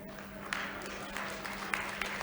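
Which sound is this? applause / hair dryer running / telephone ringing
applause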